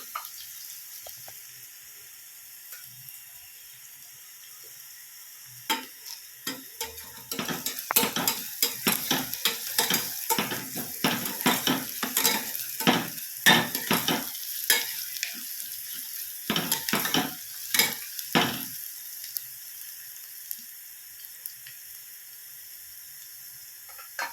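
Onion sautéing in a pan for a fenugreek seed usal, a steady sizzle with a run of close spatula scrapes and stirring clatter through the middle, then settling back to a quieter fry.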